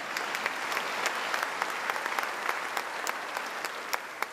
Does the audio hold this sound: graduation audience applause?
yes